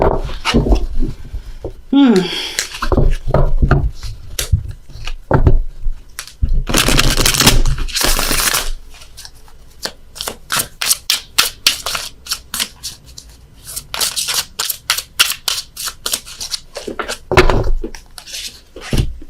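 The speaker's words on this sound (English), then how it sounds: "Dropped a load of cards here on the floor, so I gotta shuffle again" Tarot cards being reshuffled after being dropped on the floor: bursts of dense riffling and brisk, rhythmic flicks and taps, close and fairly loud, alternating with a person talking.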